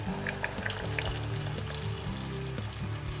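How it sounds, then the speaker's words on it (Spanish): Water poured into a pot over chopped beetroot, a steady close pour with a hissing trickle that runs throughout over background music. "Ponemos agua que las cubra, simplemente"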